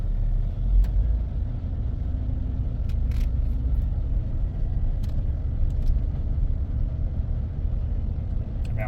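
A 4x4 with a freshly swapped hub and wheel bearing, driven on a road test; a steady low engine and road rumble runs throughout, close and even, with a few faint clicks on top.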